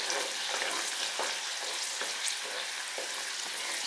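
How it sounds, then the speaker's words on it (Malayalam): Chili powder and turmeric are stirred into cauliflower pickle in a pan. A low, steady sizzle is broken by regular soft scrapes of the spoon, roughly every half second. "അപ്പോൾ ഇതെല്ലാം ഒന്ന് ഇളക്കി കൊടുക്കാം."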